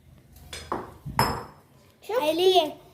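A metal setting plate is taken out and set down while making halwa, giving a few light metallic clinks and a ringing clatter, with speech nearby.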